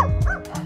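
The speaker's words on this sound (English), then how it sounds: "setting off the dogs in the gardens and they all start" A dog in a garden in Poland gives a single short, close yip with a whimpering edge. It is loud and stands alone, with no talking.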